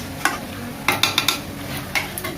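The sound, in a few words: chicken or mutton curry being stirred and sizzling in a pan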